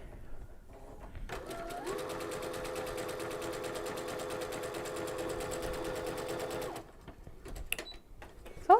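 A sewing machine runs a steady, continuous zigzag satin stitch in metallic thread with a metallic needle, humming rapidly for about five seconds before stopping, followed by faint handling noises.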